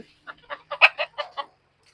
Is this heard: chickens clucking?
yes